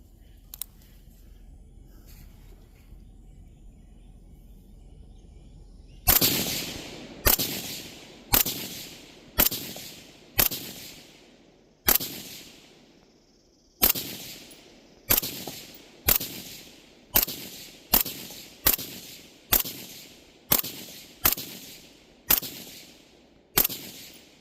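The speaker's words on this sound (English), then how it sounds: "I'm going to go ahead, I'm going to do 30 rounds on that bottom pasty." Rifle firing ball ammunition at a paper target during a zeroing string: after six seconds of near silence, about seventeen loud, sharp gunshots ring out one at a time at steady intervals of roughly one second, each followed by a brief decaying echo.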